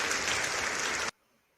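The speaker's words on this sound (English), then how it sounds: "Go ahead and give George a round of applause" Brief burst of audience applause, a dense wash of clapping that cuts off abruptly after about a second, leaving near silence.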